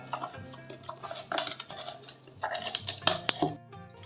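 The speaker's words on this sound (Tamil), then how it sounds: "இதை வந்து நம்ம மேஷ் பண்ணி எடுத்துக்கலாம்." Mint leaves pounded with a pinch of salt for a mojito, heard as irregular clinks, taps and scraping of a utensil against a glass or bowl, close and moderately loud, with no talking.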